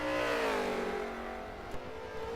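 Porsche Cayenne Turbo V8 engine in the Forza Motorsport 7 racing game, revving steadily then easing off as the pitch falls, loud and close, with no voices.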